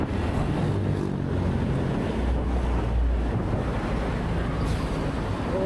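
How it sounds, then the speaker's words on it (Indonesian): Strong wind buffets the microphone in a steady, loud roar while riding a Suzuki Burgman Street 125EX scooter toward Merak, Indonesia, in clear weather, with low rumbling gusts throughout and no voices. "Walaupun cuacanya cerah, tapi angin yang berhembus sangat kencang sekali nih guys."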